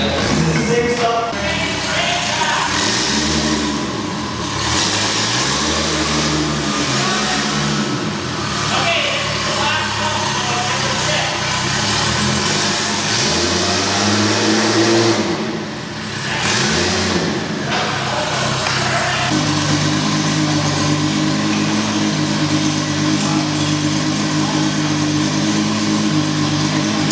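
Toyota Supra inline-six revving on a dyno, with repeated rising and falling rev sweeps, loud and close, then a steadier high drone, with people talking over it.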